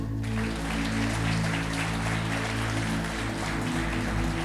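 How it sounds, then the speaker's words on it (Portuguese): An audience at a church gathering claps in a steady, dense burst of applause lasting a few seconds, fairly loud and without speech. "Vamos aplaudir ele?"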